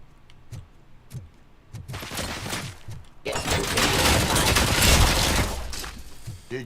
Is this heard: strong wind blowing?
no